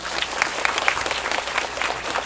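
Dense audience applause in a Megabox Coex MX cinema hall during a film talk event, a steady wash of many hands clapping, moderately loud and continuous throughout.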